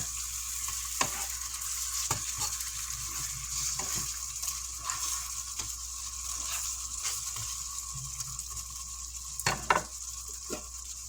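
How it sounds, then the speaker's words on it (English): Salisbury steaks sizzling and frying in gravy in a pan as they are turned, a steady close sizzle with scattered stirring scrapes and light utensil clicks, no voices. "You want to turn your Salisbury steaks, you want to keep turning them."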